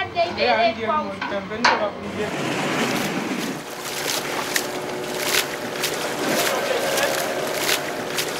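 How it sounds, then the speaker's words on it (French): Women stir cassava flour nonstop as it roasts into couac semolina, a scraping, rustling churn with clatters of a tool against the pan, loud and close with some voices in the background. "les femmes agitent la farine de manioc sans interruption pendant tout le temps nécessaire à sa cuisson pour obtenir une semoule"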